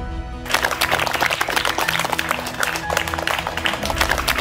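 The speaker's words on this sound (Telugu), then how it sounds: "అందరూ గట్టిగా క్లాప్స్." An audience at a school event breaks into applause for an arriving education officer, the dense clatter starting abruptly after a short quiet lead-in and continuing loud and steady over a faint musical tone.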